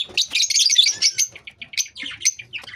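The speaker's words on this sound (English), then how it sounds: "Different color of lovebirds." Lovebirds of various colour mutations chirp close by in a mixed aviary, a quick run of sharp, bright tweets and short calls in irregular bursts, with no talking.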